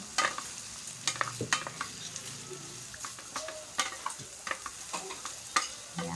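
Chicken and tofu sisig being stirred through melted margarine in a pan, with repeated sharp scrapes and clacks of a utensil against the pan over a steady close-up sizzle.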